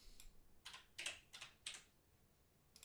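Quick keystrokes on a computer keyboard, about seven crisp clicks in an uneven burst over the first two seconds, then near silence before one last tap, close and quiet.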